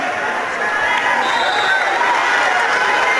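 Steady crowd murmur filling both sides of an arena at a state final high school volleyball match between Lafayette and St. Teresa's, a dense, continuous wash of many voices at even loudness.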